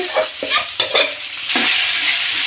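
Drumstick leaves frying in hot oil with a steady, close sizzle, broken early by several bursts of stirring scrapes before settling into continuous frying.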